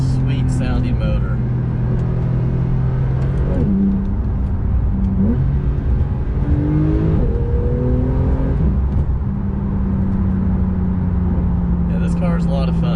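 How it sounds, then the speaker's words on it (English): Porsche 991.2 Carrera flat-six engine droning steadily while driving, its pitch rising and falling through gears over road rumble, with a voice talking over it. "Sweet sounding motor."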